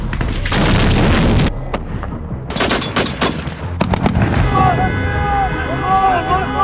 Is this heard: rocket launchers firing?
yes